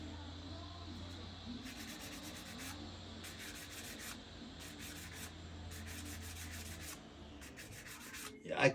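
Soft, rhythmic scratchy rubbing strokes of sanding solder buildup off a metal ring bezel, repeated in short bursts, quiet and close, with a faint steady hum underneath.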